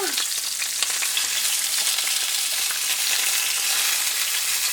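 Tomato goes into a pan of sizzling green chilli beef, and a constant close frying sizzle carries through with light crackles, without any voices.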